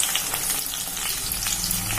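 Small onions, tomato, curry leaves and green chillies sauté in oil for a spicy fish curry, a loud, close, unbroken hiss and crackle with faint stirring scrapes and no voices.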